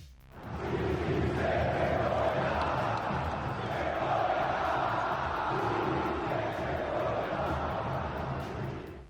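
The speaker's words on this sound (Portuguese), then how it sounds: "a torcida palmeirense já protestava contra o time de Abel Ferreira" Palmeiras fans at Allianz Parque protest against their team at the end of a derby, a loud, dense crowd roar with chanting voices that holds steady throughout.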